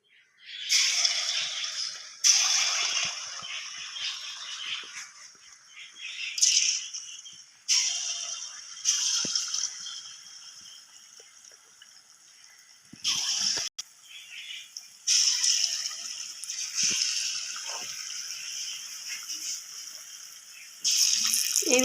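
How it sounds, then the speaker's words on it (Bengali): Palm fritters dropped one by one into hot oil in a kadai, each batch setting off a loud bubbling sizzle that rises abruptly, holds, then settles, repeating several times close up. "এইভাবে আস্তে আস্তে তালের বড়াগুলো ছাড়ছি, বড়ার মতো করে তেলে ছাড়ছি।"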